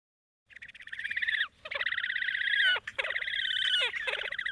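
A horned grebe's raspy, whinnying, braying call, heard as several strained trilled phrases in close succession with short breaks between them, clear against a quiet background.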